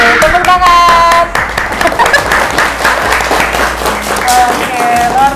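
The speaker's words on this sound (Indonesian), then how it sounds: "Tepuk tangan." Children clap together in a classroom at a Quran memorization school, with loud steady applause in a short burst that settles under adult talk and some tonal background sound.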